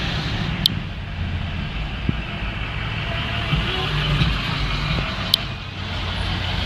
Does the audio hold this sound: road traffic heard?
yes